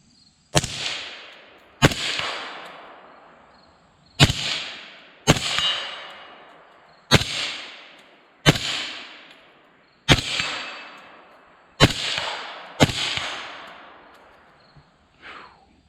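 Suppressed rifle fire with a Griffin GP-5 or AB Warthog suppressor, nine sharp, heavy cracks spaced a second or two apart, each with a short rumbling decay, heard from close behind the rifle.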